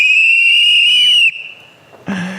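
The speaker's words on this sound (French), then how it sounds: "un sifflet, le sifflet machine production, pour faire du bruit pour notre industrie" A loud, shrill production-machine whistle sounds alone in one long sustained blast, drops to a thinner tone, then gives a short final burst, at an industry event.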